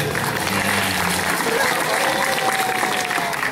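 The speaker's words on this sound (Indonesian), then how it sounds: "tepuk tangan untuk orang-orang yang hebat" A school audience of students at SMPN 3 Bayat in Klaten, Java, applauds in a steady, dense wash of clapping that holds at an even level, with faint voices mixed in.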